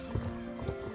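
A ridden horse in a video game clip-clops with a few soft hoof taps over a quiet steady game tone, faint and brief.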